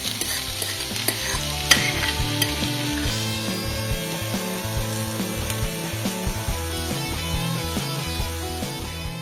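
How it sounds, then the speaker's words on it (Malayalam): Fish cutlet masala with fried fish being stirred in a pan over a low flame, a constant close sizzle under repeated scraping and clattering of a spoon against the pan, no talking. "ഇത്രയിട്ട് ലോ ഫ്ലെയിമിൽ ഒന്ന് ഇളക്കിയെടുക്കാം."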